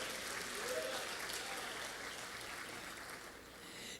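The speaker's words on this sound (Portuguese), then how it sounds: "Vamos aplaudir ao Senhor?" A church congregation applauds, a steady, even wash of many hands clapping that sustains throughout at moderate distance and level, easing slightly toward the close.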